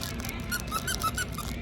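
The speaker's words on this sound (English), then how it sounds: "It's a cricket and it squeaks." A squeaky cricket-shaped dog toy being squeezed, giving a quick run of five or six high, thin squeaks close by.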